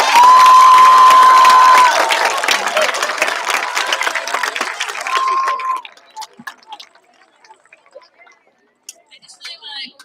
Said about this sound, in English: Round of applause for 5B.